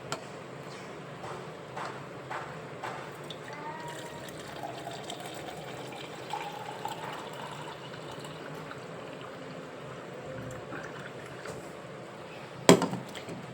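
Water poured out of a container for watering plants, a faint, steady trickle and splash, close by, with a brief sharp knock near the end.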